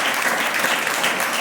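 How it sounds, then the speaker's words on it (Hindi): Enthusiastic congregational applause at a church sermon, a brief dense burst of many hands clapping close and loud. "प्रभु के लिए जोरदार ताली बजाएंगे"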